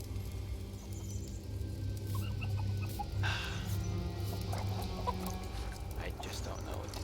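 Chicken clucking in a video game during a live stream, steady fowl calls running throughout under a constant background hum of game audio.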